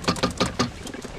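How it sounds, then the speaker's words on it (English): Pigeons cooing in a rhythm of soft, throaty pulses, four distinct coos followed by a fainter murmur, fairly close and with no talking. "most of these birds don't think they can fly halfway around the block."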